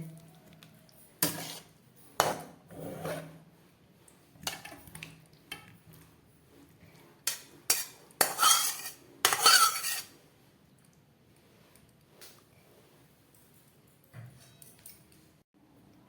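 Cooked yam and prawn curry is scraped from a pot into a serving dish, giving scattered metallic clinks and scrapes of a ladle on cookware, with a few louder clattering bursts among quiet gaps.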